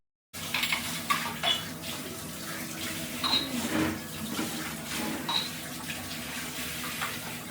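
Running water from a tap with clinks and clatter of dishes and cutlery being washed, steady and close, no voices.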